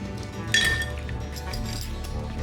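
A brass mortar and pestle clinks as it is handled and rinsed in a home kitchen, with a sharp metallic clink near the start followed by steady running water and light knocking.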